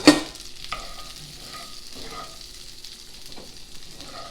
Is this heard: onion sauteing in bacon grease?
yes